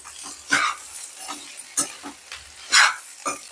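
Boiled potato pieces stirred with masala in a pan for aloo bonda, several distinct scraping, squelching strokes at irregular intervals, close up, with a soft sizzle between them.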